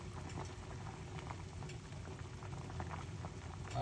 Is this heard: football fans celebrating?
no